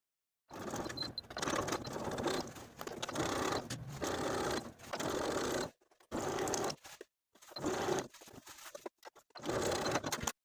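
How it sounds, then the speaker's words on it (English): A sewing machine stitches bias tape onto a jacket collar in several close, loud runs of a few seconds each, separated by short silent pauses. "Then I'm going to sew my bias tape in place with a 5/8 inch seam allowance"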